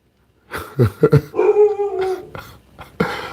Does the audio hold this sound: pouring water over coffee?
no